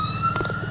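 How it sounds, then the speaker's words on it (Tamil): Police car siren in the video game Pumping Simulator 2024, a brief steady wail heard loud and close over a low engine-like hum. "அங்கே போலீஸ் வண்டி வர போகுது."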